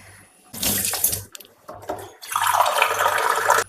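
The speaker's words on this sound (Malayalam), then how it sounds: "അപ്പം ഇതിൽ കുറച്ച് വെള്ളം ഒഴിച്ചു. അധികം വേണ്ട, 1/2 ഗ്ലാസ് വെള്ളം ഒഴിച്ചു." Water pours into a cooking pot for a pumpkin olan curry in two close splashing streams, a brief one first and then a longer, louder steady pour, with no talking.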